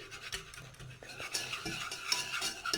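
A utensil stirs butter and flour béchamel in a saucepan, with uneven scraping and rubbing strokes against the pan, close and moderately quiet, no talking.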